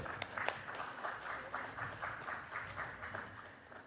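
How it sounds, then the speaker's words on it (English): Scattered applause from a panel discussion audience at a conference, soft and fairly distant, a steady patter of claps lasting a few seconds with no voices over it. "a bigger and a mightier round of applause for all our eminent panelists"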